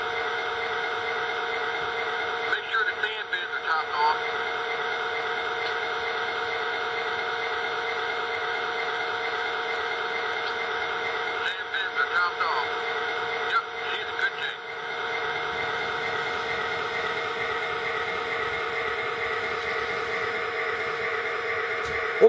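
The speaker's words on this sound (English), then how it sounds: "And the full set of sound from the PS2 system." MTH Railking F40 diesel model train with a PS2 sound system, playing a steady droning diesel engine hum with layered tones, continuous and fairly loud, with a few brief clicking disturbances.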